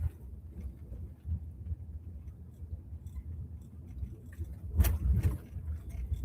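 A storm-chasing vehicle drives through snow in two-wheel drive, a low engine and road rumble droning underneath, with a brief louder thump and jangle near the end.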